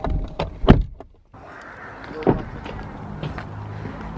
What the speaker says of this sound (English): Riley, you've opened the door and making the car beep at me.